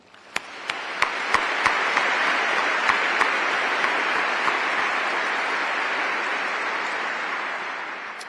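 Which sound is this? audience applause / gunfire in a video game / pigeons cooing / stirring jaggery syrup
audience applause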